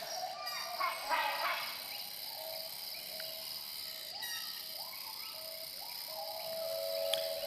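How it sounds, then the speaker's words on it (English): Steady high-pitched cicada buzzing fills the rainforest background throughout, with scattered bird chirps and calls drifting in over the droning chorus. "These are cicadas."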